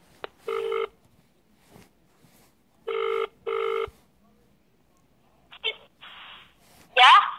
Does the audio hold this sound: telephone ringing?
yes